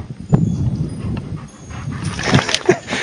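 A dog close by, making panting and faint whimpering sounds with shuffling and movement noises over a few seconds, no clear barking.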